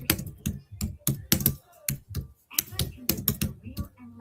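Two-finger typing on a computer keyboard, heard as irregular bursts of close, sharp key taps with short pauses between clusters, steady and fairly loud throughout.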